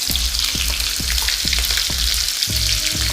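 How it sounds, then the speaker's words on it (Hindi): Cumin seeds and chopped green chillies fry in hot oil for aloo dum, a loud, close, continuous sizzle broken by a few dull thuds from the pan. "सबसे पहले मैं इसमें जीरा डाल दूंगी। 1 चम्मच जीरा हम डालेंगे इसमें। 4 कटी हुई हरी मिर्च"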